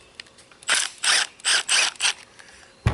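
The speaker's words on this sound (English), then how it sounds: "let me put the jack back up here" Scissor jack being cranked back up, giving five rapid, evenly spaced bursts of ratcheting metallic grinding, loud and close, followed by a pause and a final clunk.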